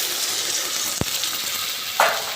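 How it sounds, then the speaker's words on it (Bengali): A spoonful of water added to onions frying until reddish in a pan for a wedding-style chicken roast, giving a continuous close sizzle with a sharp click and a brief flare of hissing near the end. "এখন আমি দিয়ে দিব 1 টেবিল চামচ পানি।"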